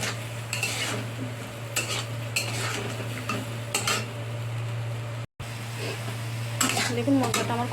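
Masala is fried and stirred in a pan, with repeated scraping strokes of a spoon against the metal and light sizzling beneath, close by, over a steady low hum and a brief cut in the sound.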